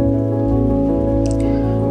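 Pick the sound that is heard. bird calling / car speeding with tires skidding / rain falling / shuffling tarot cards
rain falling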